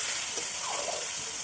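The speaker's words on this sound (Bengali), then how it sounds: "এখন রসুনটাকে ভালো করে কষিয়ে নেওয়া হচ্ছে, যাতে রসুনের পুরো স্মেলটা চলে যায়।" Garlic sautéing in a pan for mutton curry in a village kitchen, a steady close sizzle and hiss with light stirring, no talking.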